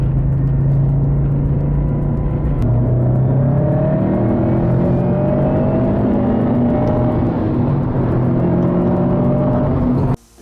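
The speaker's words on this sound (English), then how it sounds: "we're also seeing massive improvements with a nice rumble from the NVIDIA exhaust and nice intake noises through the cold air intake" A turbocharged 2008–2014 Subaru WRX tuned on E85 with a bolt-on aftermarket exhaust and cold air intake, giving a loud, steady exhaust rumble with rising and falling engine tones, close by, cutting off abruptly at the end.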